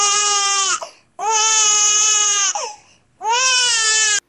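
An AI-generated baby wails loudly in three long, sustained cries separated by short breathless pauses, close and alone with no other sounds.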